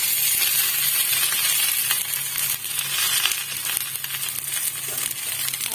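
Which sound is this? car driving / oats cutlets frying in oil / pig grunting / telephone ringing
oats cutlets frying in oil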